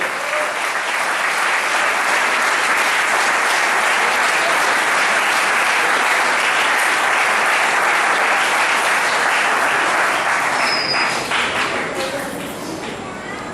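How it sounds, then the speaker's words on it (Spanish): Sustained loud applause from a large church congress crowd, steady clapping throughout that tapers off slightly near the end. "Den un aplauso a Él."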